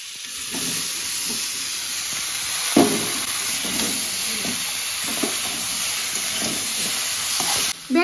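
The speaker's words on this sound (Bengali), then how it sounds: "ফুলকপি আলু সুন্দর করে কষানো হয়ে গেছে" Cauliflower and potatoes cook in a pan with a ground spice paste of cumin and green chilli, giving a steady close sizzle and hiss with repeated scraping stirs throughout and no talk.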